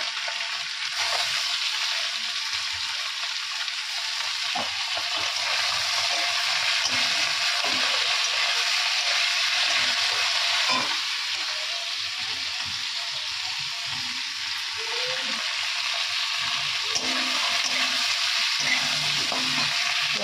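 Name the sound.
onion and chili frying in oil with panch phoron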